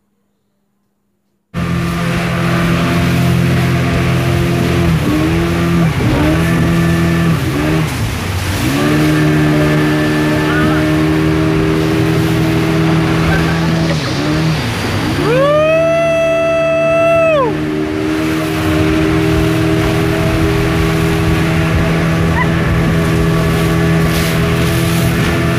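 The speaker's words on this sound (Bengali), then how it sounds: "এখন স্পিড বোট রাইড হবে" A speedboat engine at an amusement park ride drones loudly and steadily throughout, with its pitch rising and falling several times as it revs, and one sharp high surge near the middle.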